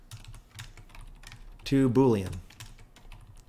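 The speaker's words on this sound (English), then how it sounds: "I'm on fire today for typing" Typing on a computer keyboard while writing code: a steady run of light, rapid key clicks, fairly close, with someone speaking briefly over the middle of it.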